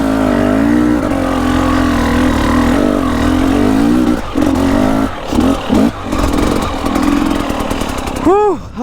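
An enduro motorcycle ridden by a pro enduro rider near a cliff drop holds a loud, steady drone, then revs in choppy bursts and throttle blips as the pitch rises and falls.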